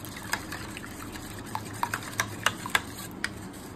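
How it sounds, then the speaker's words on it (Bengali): Eggs beaten in a bowl with chilli flakes, a utensil clicking and tapping against the bowl in quick, uneven strokes, close and moderately quiet over a faint background hum, with no talking. "ভালো করে আমি ডিমটাকে ফেটিয়ে নিচ্ছি, যাতে সমস্ত কিছু ডিমটার মধ্যে ভালোভাবে মিশিয়ে যায়।"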